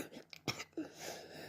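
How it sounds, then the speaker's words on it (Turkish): A single short cough close to the microphone, a quick throaty burst followed by a faint breathy tail in an otherwise quiet room. "o yüzden öksürdüm"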